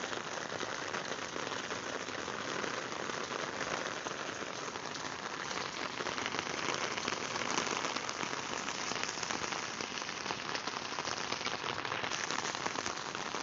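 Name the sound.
heavy rain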